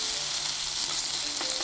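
Potato pancake batter sizzles and crackles steadily in a hot frying pan, a dense close frying hiss that holds without a break, with a faint clink near the end.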